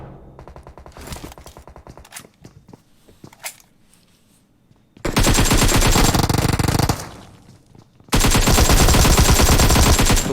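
Gunfire rings out in the video game PUBG Mobile: scattered single shots and short bursts first, then two long, loud automatic volleys close at hand with a brief gap between them.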